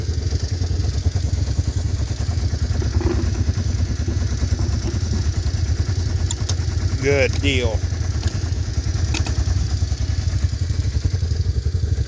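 Big Red engine idling steadily after a cold start, a continuous low rumble held without revving, with a person speaking briefly over it partway through.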